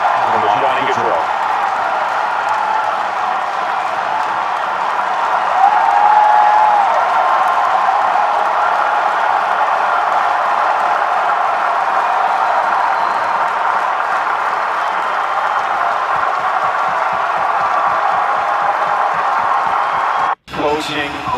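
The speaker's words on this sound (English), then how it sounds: "Definitely a cheer." A hockey arena crowd at the Columbus Blue Jackets home opener cheers and applauds during a tribute to Johnny Gaudreau. The roar is a broad, steady wash of noise that holds for about twenty seconds, then cuts off abruptly near the end.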